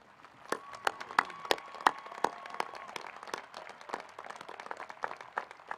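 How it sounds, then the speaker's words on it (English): Scattered applause for the graduating Class of 2021 at a high school graduation ceremony, sharp individual claps from a crowd in steady irregular bursts for several seconds. "will you please give a round of applause for the Class of 2021?"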